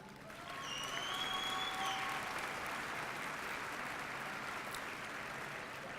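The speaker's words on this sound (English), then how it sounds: "Let's give them a big round of applause." An audience at a graduation ceremony breaks into applause, sustained clapping from a large crowd throughout, with a few brief whistles or cheers rising above it early on.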